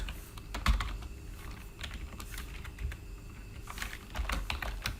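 C++ code being typed on a computer keyboard, clustered bursts of quick key clacks separated by short pauses, close and clear with no talking.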